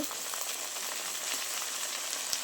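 Ginger-garlic paste with salt and turmeric sizzling steadily in a hot pan for vegetable khichuri, a continuous bright frying hiss with small crackles, close and alone without talk.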